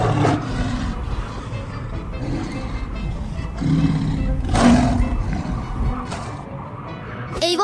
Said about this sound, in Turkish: Bu gürültü büyük bir aslanın kükreyişinden başka bir şey değilmiş.